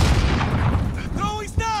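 Grenade blast in a first-person shooter riot shield and crossbow match, a loud broadband boom filling the start of the clip, followed by tonal whistling effects and a second hit as a player talks over it.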